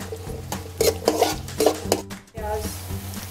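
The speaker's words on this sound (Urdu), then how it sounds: "ابھی ہم اس میں پیاز ڈالیں گے اور فرائی کریں گے" Onions frying and being stirred in a little oil in a pan, with repeated clattering scrapes of a spoon against the pan over a low, steady sizzle and a brief pause midway.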